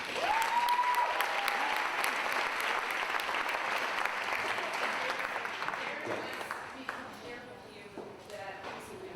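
An audience applauds steadily for a speaker walking onto a conference stage, with loud sustained clapping that gradually thins out toward the end, a short musical tone near the start and a few voices near the close.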